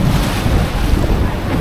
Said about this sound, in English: This is the smaller end of where the surf hits.